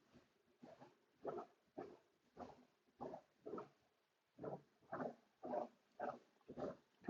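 A dog whines and whimpers in repeated short bursts, about a dozen cries at a steady rhythm, close and fairly quiet, alone without talk, while it waits out a windstorm indoors.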